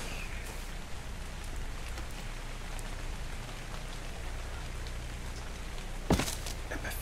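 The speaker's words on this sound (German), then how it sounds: "Jetzt regnet es natürlich" Steady rain falls in the video game ARK: Survival Evolved, a constant dense hiss of drops with a single brief sharper knock near the end and no talking.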